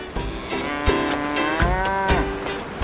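Cartoon cows moo, several long drawn-out calls overlapping one another, loud and close, with short knocking thuds between them and no talk.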